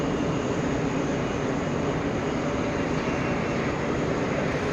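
Virgin Atlantic jet airliner from Manchester at JFK airport, a steady loud broadband engine roar holding at full strength throughout, with no talk.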